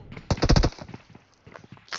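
Gunfire in the mobile game BGMI: a rapid burst of several shots early on, then quieter scattered noise and a brief burst at the end, with no voice over it.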